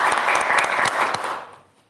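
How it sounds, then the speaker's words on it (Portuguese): Audience applause greeting a guest on a Portuguese-language talk show, dense and steady clapping that fades out over the final half second. "Palmas para ele!"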